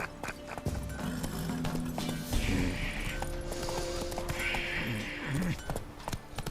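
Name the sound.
horse galloping in video game The Witcher 3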